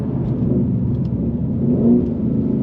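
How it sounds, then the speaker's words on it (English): A Ford Shelby GT350 Mustang engine hums steadily at close range, swelling briefly in a quick auto-blip rev as it downshifts to second, with no voices. "Don't know if the auto blipping's coming across on the camera"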